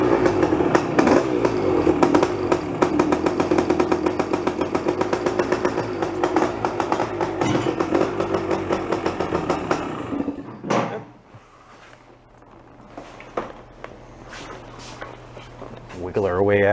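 A 1973 Yamaha Enduro 175 motorcycle, an original bike in need of work, runs loud and close with a steady buzzing two-stroke idle and small revs for about ten seconds, then cuts out, leaving quieter background sounds and a faint low hum.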